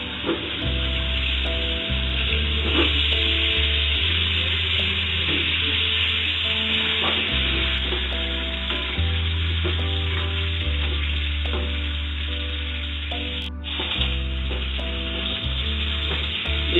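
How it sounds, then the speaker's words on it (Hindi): Potato pieces fry in a pan over a high gas flame for dhaba-style dum aloo, giving a loud, continuous sizzle with crackling and occasional stirring scrapes, close up and with no talking. "ये एक साइड से पूरा फ्राई हो चुका है, तो इसे हम दूसरे साइड से भी फ्राई कर लेंगे।"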